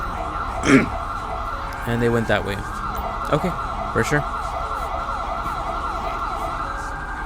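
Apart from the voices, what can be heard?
ambulance siren in video game GTA V LSPDFR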